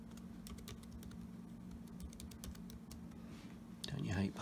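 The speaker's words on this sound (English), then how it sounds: "And then I'm just going to choose a password." A password is typed on a computer keyboard with rapid, light key clicks in quick bursts, quiet and close against a low room hum, ending with a louder rustle.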